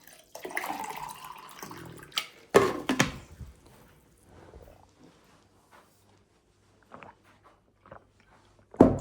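Water from earlier is poured out of a container into a drinking glass indoors, coming out in uneven gushes and splashes separated by quiet pauses, close to the microphone.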